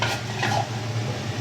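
Chicken adobo cooking in a pan as vinegar goes in, giving a close, steady sizzle with light stirring scrapes and faint utensil clinks throughout the short stretch.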